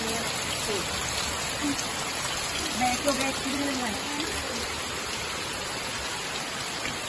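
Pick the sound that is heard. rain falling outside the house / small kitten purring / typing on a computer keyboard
rain falling outside the house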